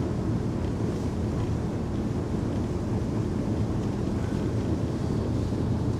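Continuous rushing roar of a Fairline Targa 45GT motor yacht speeding over a river, with wind buffeting the microphone throughout and no talk.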